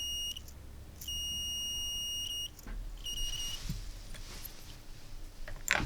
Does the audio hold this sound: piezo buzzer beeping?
yes